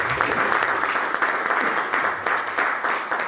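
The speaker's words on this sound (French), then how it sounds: "Acclame Jésus, acclame le Seigneur" A congregation at a worship service applauds in praise of Jesus, with dense, sustained clapping from many hands that keeps a fairly even level throughout, with a faint voice underneath.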